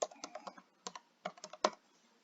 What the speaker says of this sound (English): we're just going to type in the last name